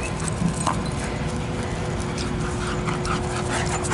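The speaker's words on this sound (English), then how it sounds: "I have the happiest dog alive out here." A happy dog plays outdoors on a hike, fetching a ball: quick panting and a few soft whimpers near the recorder over a steady outdoor background hiss, with light scuffling movement.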